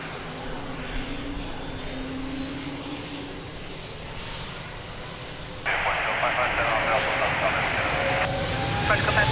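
An Air Transat jet powers up for takeoff on the runway at Lisbon Airport, its broad engine roar swelling louder partway through under a radio voice.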